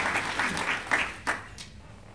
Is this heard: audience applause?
yes